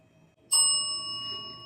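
A bell in the haunted Jerome Grand Hotel in Arizona strikes once after near silence, a clear metallic ding with long ringing overtones that decay slowly, fairly soft and close.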